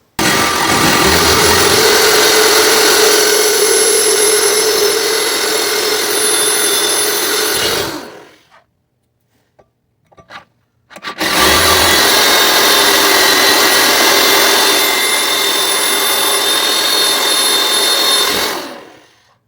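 A power drill backs out the brake rotor screws on a 2015 Hyundai Elantra: two long, loud, steady whirring runs, each around eight seconds, separated by a short quiet pause with faint handling noises.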